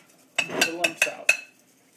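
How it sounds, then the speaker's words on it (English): A whisk beats pancake batter in a bowl, making about five quick, bright clinks against the bowl in a short burst, close and fairly quiet. "And then we're going to start whisking until we get all the lumps out."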